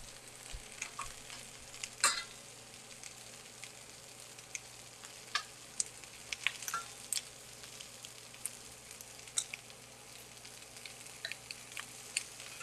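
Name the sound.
cauliflower searing in a pan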